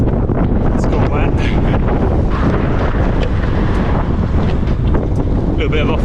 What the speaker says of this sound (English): Definitely windy again.